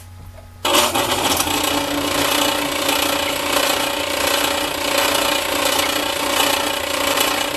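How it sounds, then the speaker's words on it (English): A freshly cleaned and oiled lathe switches on after a brief near-silent moment, then runs steadily with a loud, continuous mechanical whine and rattle that holds level to the end. "And plug in the lathe."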